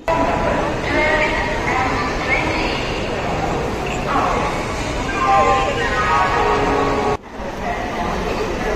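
Busy platform ambience at Howrah railway station at night, with a dense wash of crowd chatter, rail and station noise and announcements, and people talking nearby throughout.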